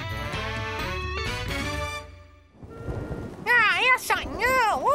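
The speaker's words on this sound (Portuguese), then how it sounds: "Outro dia de chuva!" A cartoon thunderstorm with a rumble of thunder and rain noise, heard between stretches of music and animated character voices.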